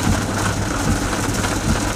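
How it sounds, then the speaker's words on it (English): Steady, dense rain pours down continuously, a loud broadband hiss with a low rumble beneath it and no voices. "Yep, and there's the rain."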